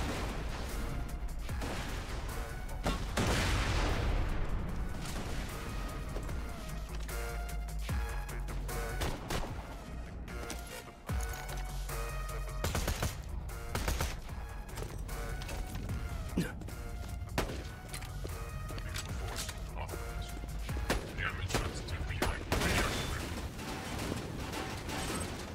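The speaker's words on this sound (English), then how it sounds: "My rockets burst into two separate rockets?" Rocket launcher fire in Borderlands 2 bursts into split rockets, with repeated explosive blasts and crashes over a busy game soundscape, loud bursts recurring through most of the stretch.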